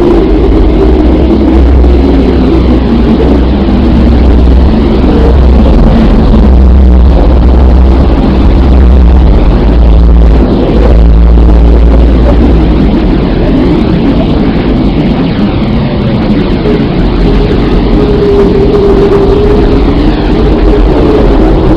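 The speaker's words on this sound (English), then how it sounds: "Here is the sound of our home planet." Earth's atmospheric plasma waves converted into sound, a dense, steady low rumble and hiss with faint warbling tones, continuous and loud throughout with no voices.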